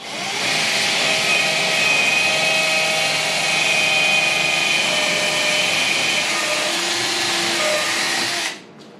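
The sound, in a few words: power drill boring hole in plywood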